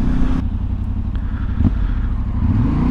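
Yamaha Tenere 700 World Rally motorcycle with an Akrapovic exhaust, a steady, loud, close engine drone with a deep low rumble and slight pitch rises as the rider holds throttle on the move.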